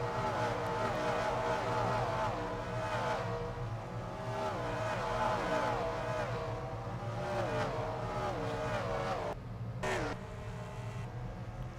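Several race cars from a racing video game pass at the Bristol oval, a dense, continuous engine roar with rising and falling pitch sweeps as they fly by, loud and close, ending in a short break of quieter revving.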